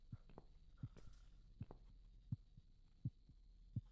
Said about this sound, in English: there's a fucking heartbeat